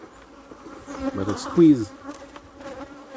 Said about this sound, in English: If you notice here, see it have a bee there? That bee is alive, you know.